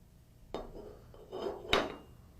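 A sear slides out of the rail of an AGD Classic Automag paintball marker, giving three quiet, close metallic clinks and taps spaced about a second apart against a near-silent background.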